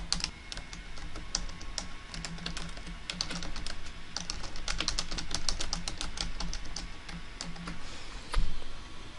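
Steady, rapid clatter of keys on a computer keyboard as a test question is typed, close and continuous with uneven bursts, no talking.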